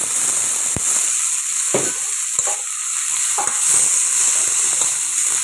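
Tomatoes frying in a hot, clean pan give a steady sizzle with a few sharp utensil scrapes and knocks from stirring, fairly close and with no voices.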